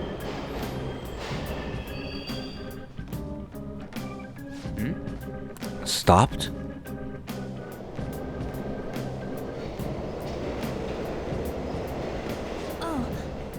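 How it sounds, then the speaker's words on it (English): A train in the Mementos subway world of Persona 5 Royal rumbles and clatters with steady rhythmic rail noise, a sharp burst midway, and a brief spoken question over it. "they are indeed capturing a train"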